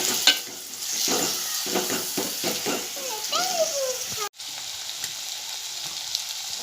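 Onion, tomato and green chili sizzle steadily in a hot pan, close and continuous, broken by stirring scrapes and then a brief cut before the frying resumes. Faint background voices are heard.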